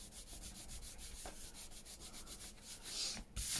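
Paper rubbed by hand while making an interactive insert for a junk journal built from Amazon packaging, a soft continuous scratchy friction sound, close and quiet, with no talking.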